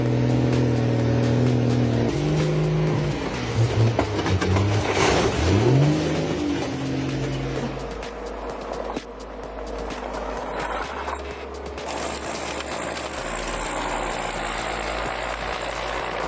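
Scania 6x4 timber truck on dusty roads: a loud diesel engine rumbles and revs through shifting tones, easing into a lower, steadier drone with faint rattles.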